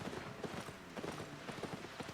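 A donkey mount in the fantasy MMO Albion Online trots with quick, steady clip-clop hoofbeats, close and moderately loud, in an even rhythm with no voices.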